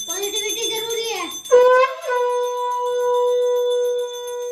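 A conch shell is blown in one long, steady, resonant blast during a home prayer to Tulsi Mata, close and loud, with brief voices and a rising pitch bend just before it settles.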